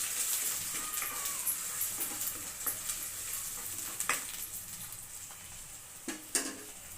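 A spoon stirs ground onion paste into fish curry in a pan, giving a soft, steady sizzle close up, with scattered scrapes and clinks of the utensil against the pan growing more frequent toward the end.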